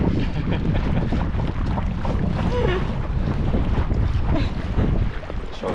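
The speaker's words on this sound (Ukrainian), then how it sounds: "Падає дощ. Дує вітер." Steady, loud wind roar buffets the microphone, with a broad rushing wash of rainfall at a lake; no voices.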